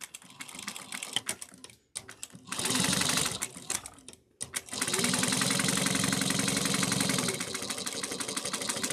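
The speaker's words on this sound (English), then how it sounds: "Then put the lining right sides together, 1/4 of an inch. Back stitch really well." A sewing machine runs in several bursts, back-stitching a quarter-inch seam along a change pouch's lining, a fast, even mechanical patter with brief stops between runs and no talking.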